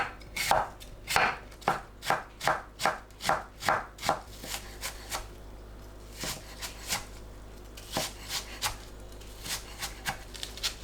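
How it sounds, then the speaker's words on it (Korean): Knife chopping thin-sliced onion and apple into short pieces on a board, a fast steady run of crisp, close cuts that slows into sparser, uneven taps, with no talking. "양파, 사과를 곱게 채 썰고 짧게 잘라줍니다."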